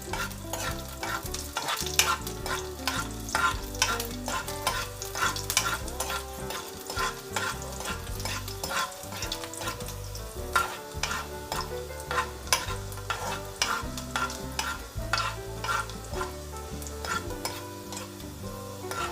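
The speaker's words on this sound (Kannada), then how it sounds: "ಬೆಳ್ಳುಳ್ಳಿ ಸ್ವಲ್ಪ ಫ್ರೈ ಆಗಲಿ." Garlic fries in hot oil for a Konkani ivy gourd stir-fry, with a continuous sizzle, frequent rhythmic clinks and scrapes of stirring, and a steady tonal background running underneath.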